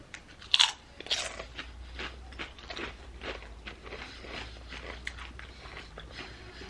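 Spicy fire stick snacks get bitten and chewed close up, with a few sharp crunches at the start followed by softer, irregular chewing crackles.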